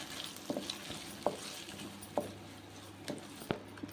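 Dried red chillies, urad dal and curry leaves sizzle in hot oil for a tempering, a close crackling fry broken by several sharp stirring clatters and pops, with no talking.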